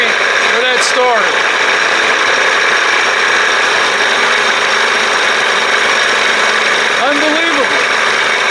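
A 60 hp Johnson outboard engine that has been giving trouble is cranked by its starter, with bursts of whirring at the start and again near the end, and a loud steady mechanical drone running continuously between them.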